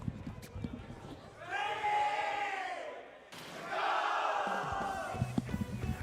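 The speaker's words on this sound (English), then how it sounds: "I need you to hear this crowd." A large crowd at a Splatoon 3 esports tournament at Riptide 2024 roars and cheers in two swelling waves, loud and sustained, with a commentator's voice audible around the edges.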